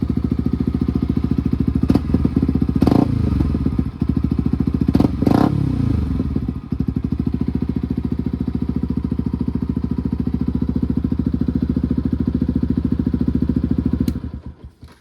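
A WR motorcycle engine runs steadily and loud up close, with a couple of sharp throttle blips around the middle, then cuts off near the end; no talking.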